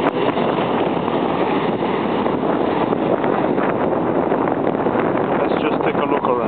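Strong wind gusts along the waterfront on West Rodney French Boulevard, buffeting the microphone with a loud, continuous roaring rumble that never lets up.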